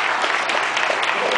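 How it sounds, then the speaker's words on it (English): Audience breaking into a round of applause for a beginner, a loud, close, continuous burst of many hands clapping, brief and even with no speech over it. "Give her a round of applause."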